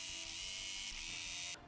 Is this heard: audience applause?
no